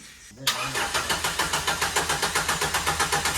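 A car with a weak, rust-affected battery cranks in steady, slow, rhythmic pulses for about three seconds without catching. The starter grinds loudly and close by.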